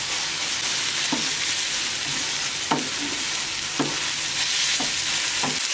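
Steady sizzling in a pan with a spoon scraping and stirring through a thick tomato paste mixture with red pepper flakes, several soft clacks of the utensil against the pan at irregular intervals.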